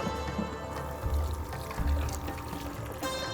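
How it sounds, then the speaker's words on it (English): Pot of onions coming to a boil on a stove, a continuous bubbling, sloshing liquid sound with a few louder gurgles, close and steady, no talk. "now as you can see, it's come to boil"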